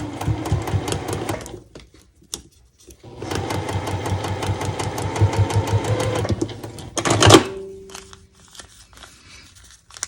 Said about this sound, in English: you're flipping it over to sew so you can see the line. And stitch right on the line